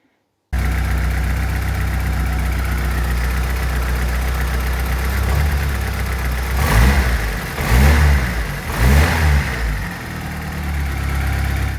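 Opel Calibra with a C20NE engine idling steadily and loud, then blipped through three or four quick revs that swell and drop back to a smooth idle.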